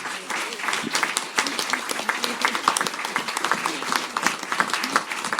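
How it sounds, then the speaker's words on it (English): An audience at a Montauk Chamber meet-the-candidates forum breaks into a sustained round of applause, dense and close, with many hands clapping steadily throughout. "I think that we owe a large round of applause to these folks up here"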